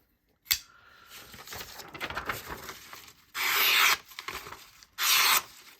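A flat-ground knife blade cuts and rasps through material in a close, dry scraping stroke after a sharp initial contact, followed by two louder, harsher ripping bursts, with no talk.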